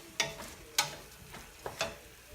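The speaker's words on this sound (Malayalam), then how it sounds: "ഇനി ഇതിൻ്റെ പച്ചമണം മാറുന്നത് വരെ നന്നായിട്ടൊന്ന് വഴറ്റി കൊടുക്കണം" Crushed green chillies and onions sautéing for prawn biryani in a pressure cooker make a faint sizzle, broken by several separate scrapes and taps of a spoon stirring the pan, close and quiet.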